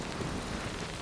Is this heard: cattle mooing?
no